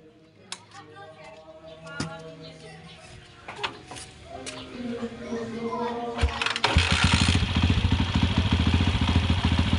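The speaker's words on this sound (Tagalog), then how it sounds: "Pandar natin, tapos re-rev natin." Motorcycle fitted with an added capacitor: someone talks over faint clicks and clatter, then the engine catches after several seconds and settles into a loud, steady, close idle and rev.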